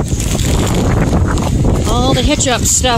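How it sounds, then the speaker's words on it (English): Heavy wind buffeting the microphone in a constant roar, with a person talking briefly near the end. "the wind out here today is 37 with gusts up to 45"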